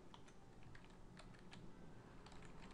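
Keystrokes on a computer keyboard while entering a name into a web form, quiet clicks in irregular short bursts over a steady background hiss, no talking.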